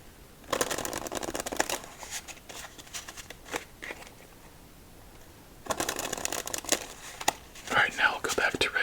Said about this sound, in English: I'm shuffling this way to counteract the bend in the cards.